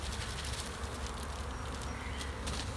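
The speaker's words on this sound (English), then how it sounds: "the box is full of bees" Honeybees fill a crowded hive box with a steady, dense buzz that holds even and close for the whole stretch, with no voices.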